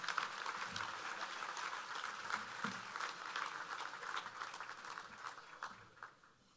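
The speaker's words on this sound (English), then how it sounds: "Big round of applause for Scott Morrison," An audience at a chamber of commerce function applauds a politician being introduced, a soft, distant patter of many hands that thins out and fades toward the end.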